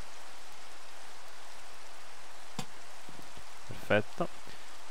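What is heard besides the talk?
rain in the video game Minecraft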